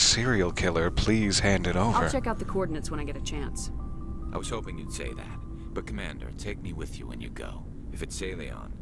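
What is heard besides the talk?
None of the usual background noises is heard.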